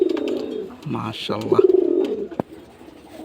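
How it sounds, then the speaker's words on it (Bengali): Pigeons in a loft give soft, rolling coos in a few close bursts, and someone says a word over them. "আর কবুতরগুলো ভয় পাইতেছে, ছটফটা কবুতর অনেক"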